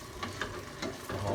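Beef sizzles quietly in a pan, a faint steady fry with a few light stirring scrapes and clicks spaced through it, close by with no talking.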